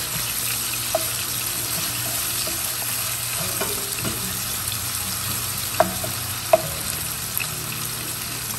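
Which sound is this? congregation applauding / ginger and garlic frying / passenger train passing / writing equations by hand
ginger and garlic frying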